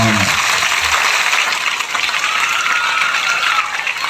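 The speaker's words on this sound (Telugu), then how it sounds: "ఒక్కసారి మీ టీచర్లందరికీ చప్పట్లు కొట్టాల్సిందిగా మిమ్మల్ని కోరుతా" A school audience applauds its teachers with dense, loud, sustained clapping from a large crowd, steady for several seconds with no voices on top.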